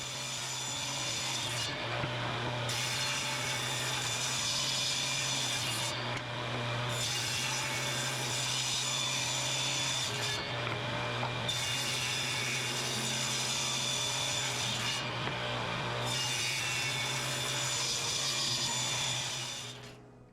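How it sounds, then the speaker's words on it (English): A table saw with a slow, tired motor rips through wood for a chevron cutting board, the steady rasping whine running loud and close almost without pause across several passes, with a low motor hum underneath. "These are the last cuts you'll see before the new motor goes on the table saw."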